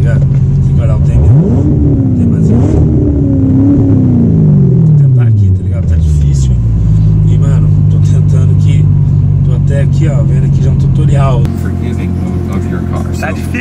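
Chevrolet Corvette launching hard with spinning tires, a loud, close engine roar that sweeps up and down in pitch through several revs before settling into a steady high drone, with someone talking over it.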